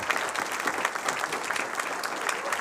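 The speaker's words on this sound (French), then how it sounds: "On peut t'applaudir bien fort." An audience applauds a filmmaker at a cinema masterclass, with dense, steady clapping that holds for under three seconds and carries no speech over it.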